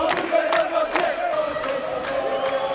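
Volleyball fans roar and chant in an arena before a match, a dense sustained crowd noise with tonal shouting and rhythmic surges.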